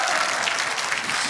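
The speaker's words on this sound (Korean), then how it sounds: "다시 한번 뜨거운 박수를 보내주시기 바랍니다" A crowd at a political rally breaks into loud, dense applause, a steady wash of clapping throughout with no pauses.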